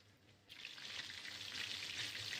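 Chicken pieces frying in hot oil, a bright hissing sizzle that starts abruptly and swells to a steady, fairly loud crackle, close up with no voices.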